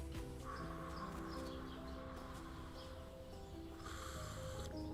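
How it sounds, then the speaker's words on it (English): Birds calling at an early rural morning with crow-like caws over a steady dense background of chirps and tonal calls, continuous and moderately loud throughout. "Ah, the sounds of morning. Early in the morning, Birds singing."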